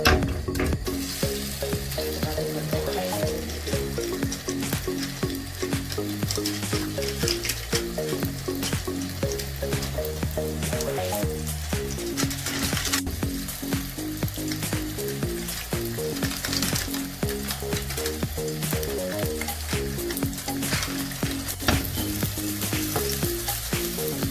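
Minced chicken kebabs fry in a pan at home, a continuous dense sizzle and crackle lasting throughout, with no talking.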